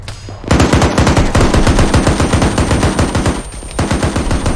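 Sustained automatic machine gun fire in the jungle warfare video game Arma 3 on Tanoa, loud and close, a rapid continuous stream of shots with a brief pause near the end before firing resumes.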